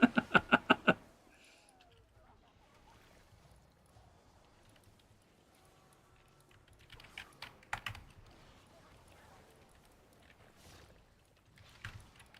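A computer keyboard clatters in a quick burst of keystrokes at the start, then gives scattered, fainter clicks and taps over a quiet background.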